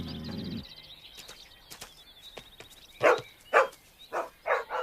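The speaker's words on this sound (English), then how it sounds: "It's a sheepdog, not a hunting dog." A sheepdog in an animated series barks in a run of five sharp, fairly close barks after a quiet stretch with faint chirping and rustling.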